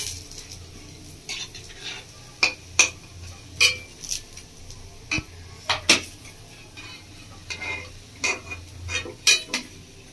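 Metal utensils clink and scrape against pans and dishes in a series of sharp, irregular knocks as fried egg chops are lifted onto a plate, over a low kitchen hum.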